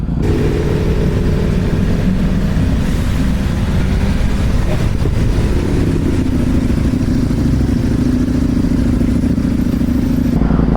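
A 2025 Ducati V4S motorcycle engine hums steadily under a break-in ride, held at moderate revs with wind rush and a brief clatter midway, while a rider talks over it.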